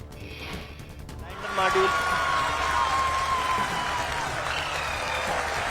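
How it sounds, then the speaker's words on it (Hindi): Applause at ISRO after the Chandrayaan-3 Vikram lander touches down on the Moon: a steady wash of clapping from a large room swells after a brief quieter stretch and holds, with a voice and a high tone running over it. "People are applauding."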